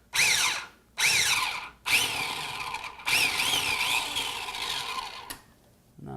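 Food processor pulsing cauliflower into coarse grains: a loud whirring motor in short repeated bursts, then one longer run with rattling pieces.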